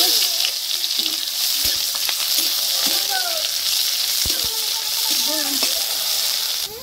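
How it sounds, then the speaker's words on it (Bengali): Chopped onions fry in hot oil with whole cumin and halved bay leaves, producing a steady, loud sizzle with occasional stirring knocks while a voice speaks intermittently over it. "জিরা আর তেজপাতা আমি হালকা করে ভেজে নিছি, এখন দিব পেঁয়াজ কুচি"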